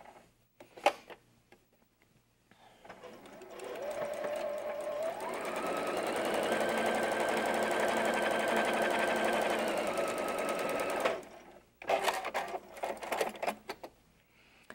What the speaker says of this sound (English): Now I can continue the sewing line where I started to sew and sew to the outside of the block.